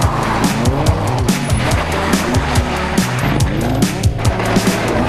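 Rally cars on a tarmac stage at the 2005 Cork 20 International Rally, with loud engine roar and repeated tyre squeal as they slide for grip, close and continuous.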